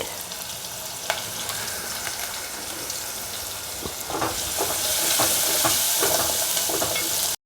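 Sliced red onion with a little turmeric powder frying in a pan for a dry fish gravy, making a steady sizzle with repeated scraping stirs that grows louder toward the end.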